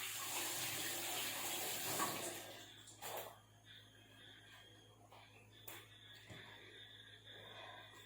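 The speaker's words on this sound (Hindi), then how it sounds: "तो इससे मैं धो के लाई ककड़ी को" Tap water runs over a cucumber as it is washed in a kitchen, a fairly faint steady splash that is strongest at first and then thins into softer trickles and drips.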